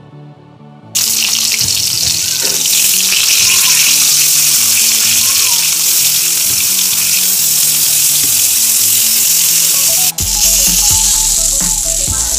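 Fish rinsed clean under a running kitchen tap, a steady loud rush of water pouring continuously into a sink, broken by a brief clatter near the end.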